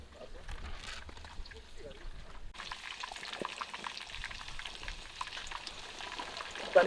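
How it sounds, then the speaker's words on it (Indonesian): Chicken frying at a sunset campsite on Mount Sumbing via the Gajah Mungkur route, a steady hissing sizzle that swells after a quieter start and runs on with people talking over it. "sekarang bikin ayam goreng"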